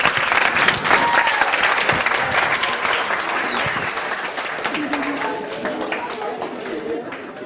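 An audience applauds loudly at a staged show, a dense wash of clapping with crowd chatter that slowly thins out toward the end.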